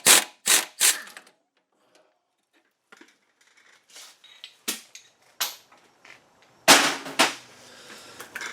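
Wrench clicking and clanking against a spinning bolt on the front knuckle of a 1997 Audi A4 Quattro, heard as several sharp metallic bursts close by with quiet gaps between them.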